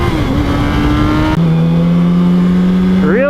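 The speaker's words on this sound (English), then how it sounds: "This bike does not make near the horsepower on bottom end as far as torque, but it's a lot more smooth on bottom end." A newly bought motorcycle engine while riding over gravelly terrain: loud, steady droning with a clear shift in pitch partway through, as if changing gear, and a rising rev at the end.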